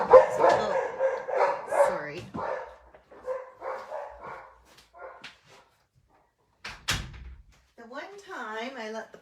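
Puppies yip and bark in a room, sharp high cries scattered through the clip, partly under a person talking at first and clearer toward the end.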